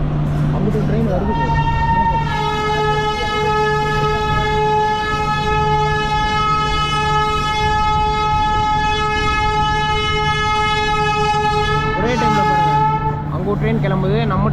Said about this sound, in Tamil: அப்படி ட்ரெயின் வருது.